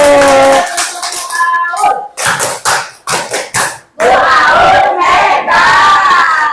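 A classroom of people claps and cheers loudly, with bursts of rhythmic applause and shouting voices, ending in sustained clapping.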